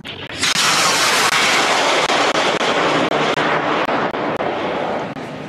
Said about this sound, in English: the red rocket shoots 600 meters into the air